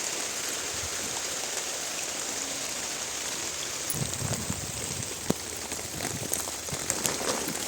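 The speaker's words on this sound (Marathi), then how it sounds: "सगळीकडं पाऊस सुरू झाला आहे" Steady rain falls across an onion field, a dense even hiss with scattered close drips and taps picking up toward the end; no voices.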